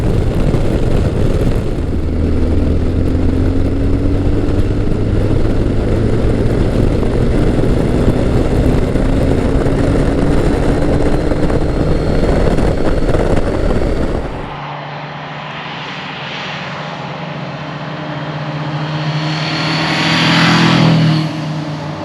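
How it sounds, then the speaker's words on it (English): A Kawasaki Concours 1000 (GTR1000) touring motorcycle is ridden at speed with a loud, steady engine drone and wind roar, then the roar drops away to a quieter engine note that swells again, with no talk. "When you ride the Kawasaki Concours 1000"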